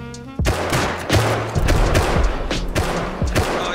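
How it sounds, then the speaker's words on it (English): Rapid bursts of gunfire in the survival game Rust, loud and close, with shots firing in irregular clusters and overlapping heavy thuds across a tense raid. "You guys just gotta start shooting at them."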